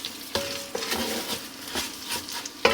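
Rice and chopped onion being stirred in a hot pan, a close, steady sizzle with scraping strokes and a few sharp utensil knocks against the pan, no voices.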